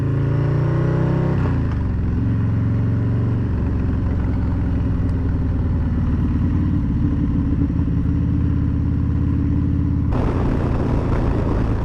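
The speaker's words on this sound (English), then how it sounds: "I just don't like how it kind of bogs down if I come off the throttle and then I re-engage it" Motorcycle engine running steadily with a low, rough drone that surges and thickens near the end as the throttle comes back on, the bog-down sputter hard to pick out; close and loud, no talk.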